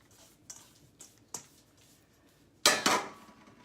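Drained canned chunk pineapple tipped into a kitchen pan: a few light clinks and taps spaced out, then a louder clattering rush of fruit landing in the metal pan, close by.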